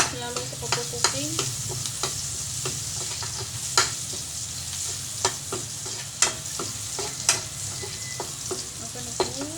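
Sizzling in coconut oil runs steadily, close up, under a string of sharp ticking spatula taps and scrapes against the pan; nobody speaks.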